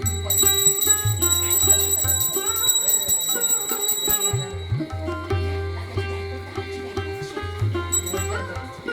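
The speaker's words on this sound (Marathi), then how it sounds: "घंटी वाजव" A puja hand bell rings steadily during a Gokulashtami puja, with bright metallic overtones, sustained and fairly loud, under a busy background with some low humming sounds.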